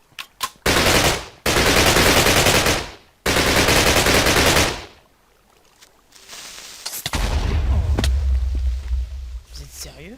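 Rapid gunfire in modded Minecraft, with two long, loud automatic bursts followed by quieter scattered shots and a low rumble, while a voice talks over the game.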